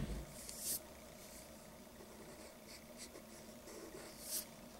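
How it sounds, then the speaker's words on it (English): Pencil eraser rubbing over part of a manga face drawing on paper, a faint, soft, steady scrubbing close by, with a couple of brief louder brushes at the start and near the end. "And then you want to erase a little"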